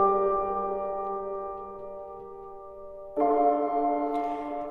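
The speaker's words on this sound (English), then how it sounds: "So the piano itself sounds like this." Piano chord from the Labs instrument drenched in heavy reverb, a sustained tonal chord ringing and slowly fading, then a second chord struck more loudly and left to ring alone.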